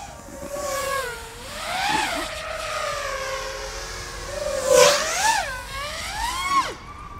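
Motors of a new FPV mini quadcopter with new frame and props whine in flight, a sustained pitch rising and falling as the throttle changes, with surges around the middle and end.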